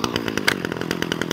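A Titan petrol strimmer multi-tool engine, on choke, buzzes loudly and steadily at close range in a rapid pulsing drone with no talking.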